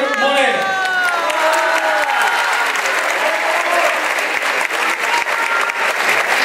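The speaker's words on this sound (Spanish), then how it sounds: "Recibamos con un fuerte aplauso a Brenda Espinosa López, diputada electa por Morelos." A large outdoor crowd in Tetelcingo, Morelos applauds loudly for a newly elected deputy, sustained dense clapping mixed with cheers and whoops, with a trailing voice fading under the opening of the ovation.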